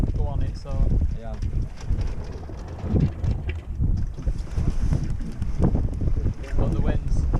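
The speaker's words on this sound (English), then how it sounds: "Yeah, because the wind's picking up. It's blowing the bow around." Wind gusting over a small sailboat at sea, buffeting the microphone in rough bursts with water and hull noise beneath, while people talk throughout.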